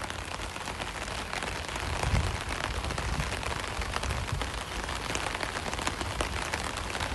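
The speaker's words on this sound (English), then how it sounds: "I'll shush for a little while as we can enjoy the rain a little bit, the ambience." Steady rain falls outdoors in Phuket, a dense even hiss of drops spattering on surfaces, close and continuous throughout with no voices.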